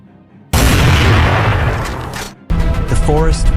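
A loud, close gunshot during a wild boar hunt in a forest, a sudden blast with a long rumbling tail, followed by a second burst of noise and a brief high cry.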